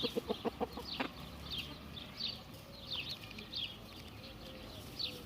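Rooster, a young Indian breed bird, giving a few short clucks at the start, then soft chirps and calls repeating in the background of a farmyard coop with hens.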